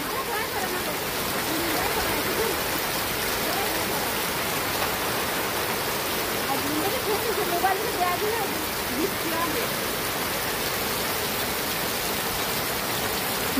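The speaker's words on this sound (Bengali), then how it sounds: "এই ঝড় হলে আর জোরে বৃষ্টি হলে বিশাল ভয় লাগে আমার।" Heavy rain pours down during a windy storm as a steady, dense hiss of drops on surfaces, with a voice faintly present beneath the downpour.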